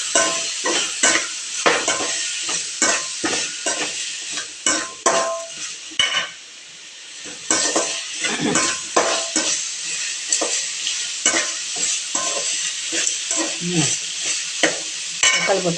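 Chopped tomatoes frying with asafoetida in a pan while being stirred, giving a close, continuous sizzle broken by repeated scraping and clinks of the utensil against the pan.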